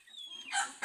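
Native country chickens on a household poultry setup, a short burst of clucking and fowl calls that rises in the second half, close and fairly clear with no talking.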